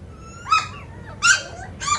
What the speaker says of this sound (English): what are you barking at? You discovering your little voice?